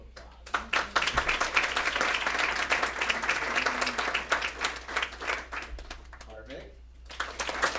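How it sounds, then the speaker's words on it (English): An audience at a school board meeting breaks into sustained applause, loud and steady for several seconds before thinning out, with a voice speaking over the end. "Let's give them a round of applause."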